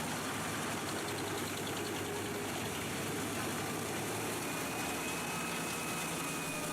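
An industrial drum chipper used in forestry runs continuously, a loud, dense mechanical roar with a low engine rumble and a broad steady hiss, with no pauses or voices.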